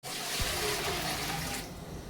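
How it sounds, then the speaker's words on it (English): Water runs into a cooking pot for beans, a steady close gushing pour that tapers off near the end. "So let me put another water."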